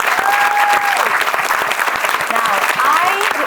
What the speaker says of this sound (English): Let's give our amazing panelists a big round of applause.